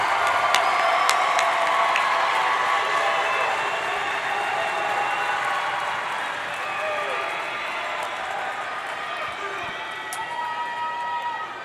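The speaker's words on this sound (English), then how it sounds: "give them a round of applause" A commencement crowd in the stands of a high school graduation ceremony applauds and cheers, a broad wash of clapping and crowd noise with scattered shouts that fades slightly over time.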